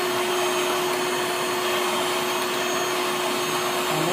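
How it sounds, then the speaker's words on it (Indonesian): An electric hand mixer beats butter sponge cake batter in a steady, continuous motor whir with a fixed pitched whine, loud and unbroken throughout with no talk. "Kita mixer selama kurang lebih 10 menit."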